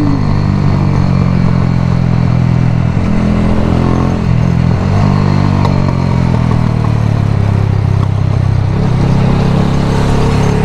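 Motorcycle ridden in fifth gear on a Jamaican road, its engine droning loud and steady from close by, with wind rush and road noise throughout.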